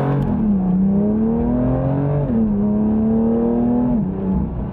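A BMW M2 Competition accelerates hard, its engine note climbing steadily through two gear changes, loud and close with a steady droning whine and no talking.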